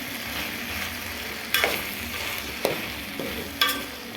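Ivy gourd fry with turmeric being stirred in a pan: a steady soft sizzle with a few sharp scraping knocks of the spoon against the pan, close and without speech.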